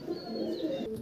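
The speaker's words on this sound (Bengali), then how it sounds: "বাহ, দারুণ পায়রা" A pigeon in a loft coos steadily and close, a low murmuring call running throughout with no talk over it.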